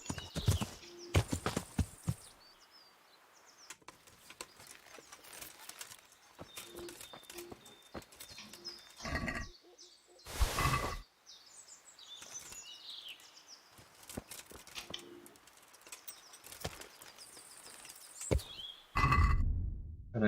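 Horse hooves clip-clop in short, intermittent bursts inside the medieval video game Kingdom Come: Deliverance, with occasional louder thumps and movement sounds over a quiet background and no voices.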